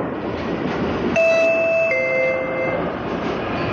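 Alstom Série 4000 commuter train standing at a station platform in the HMMSIM2 rail simulator on the Ramal Santa Cruz line, with a steady rumbling hum and a brief two-tone electronic chime in the middle, no voices.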